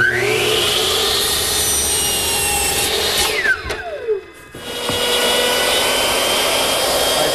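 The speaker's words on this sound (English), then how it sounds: "I'm just using my router, which is set up with a guide fence and a half inch straight cutting" A router with a guide fence and a half-inch straight bit cuts mortises in wooden rails, whining loudly at high pitch, winding down and dropping briefly, then revving back up close by.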